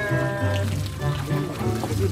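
Cold water pours and splashes steadily for a couple of seconds as part of a prank, loud and close, with a voice talking over the gushing liquid.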